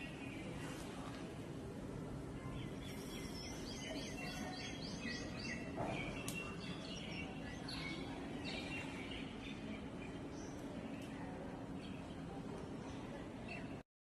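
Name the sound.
sparrow chirping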